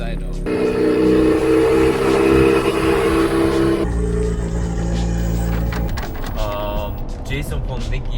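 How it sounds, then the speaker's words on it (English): Honda K20C1-powered Toyota AE86 running on a dyno, a loud sustained engine note holding high, then dropping off as revs fall, with scattered mechanical noise at the end. "First run on the dyno."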